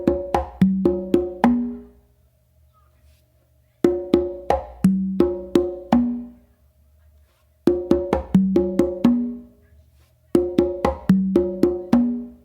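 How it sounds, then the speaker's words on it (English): Makuta rhythm played on three congas: crisp slaps and open tones fall in repeating phrases of about six strokes each, with short silent pauses between four phrases, loud and close. "to basically finish off this basic variation of Makuta with 3 congas,"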